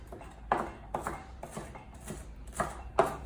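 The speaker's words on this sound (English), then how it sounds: "chop it up like that" Knife chopping salsa ingredients on a cutting board, several separate sharp taps at an uneven rhythm, close and fairly quiet over a soft background hum.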